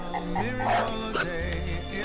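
A dog gives a string of yips and whimpering barks close by, mixed with other household sounds.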